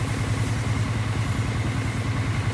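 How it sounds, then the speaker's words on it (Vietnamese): A Yamaha Exciter motorcycle idles in a workshop while its charging is tested, a close, steady low engine putter with an even, rapid pulsing rhythm and no talk over it. "bây giờ xe đang nổ máy ha"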